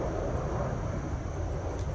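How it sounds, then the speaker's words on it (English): A fixed-wing airplane passes overhead outdoors, giving a steady, moderately loud engine drone that holds evenly throughout with no talking. "look at this! It's an airplane."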